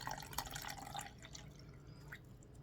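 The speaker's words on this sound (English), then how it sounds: "I'm going to have to fill up my bottle to that bottom mark with" Water pours and splashes into a plastic bottle rain gauge, a quiet, close trickle that fades and thins out over a couple of seconds.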